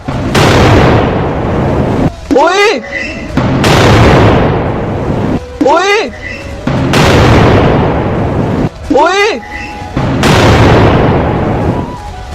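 S-400 air defense missiles and explosions: repeated heavy roaring blasts, each several seconds long and very loud, separated by short gaps carrying rising whistling tones, in three cycles.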